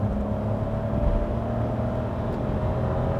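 A 2022 Hyundai Casper, the small SUV with a 4-speed automatic, pulls in third gear with a steady, fairly loud engine drone heard from inside the cabin, with no voices.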